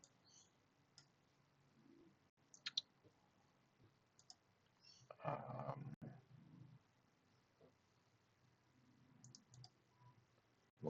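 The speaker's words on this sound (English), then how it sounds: "So shift, click that, click that, click that." A computer mouse clicks faintly and close by in scattered single and double clicks, with a short burst of soft rustling in the middle and no talk.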